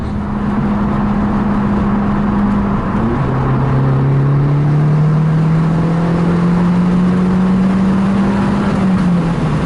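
A 250 BHP Abarth 500 Accelerati with a Power Motive valved exhaust driving, its engine drone loud and close, holding a steady pitch then dropping after a gear change and climbing slowly again.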